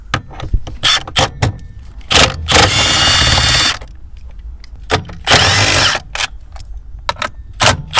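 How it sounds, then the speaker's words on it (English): Close, loud bursts of a power tool removing the four bolts from a Toyota MR2 shifter base during a manual swap, with two long whirring runs between short clicking pulses and clattering handling noise, no speech. "So I'm going to go ahead and remove the 4 bolts that hold the upper portion of this base."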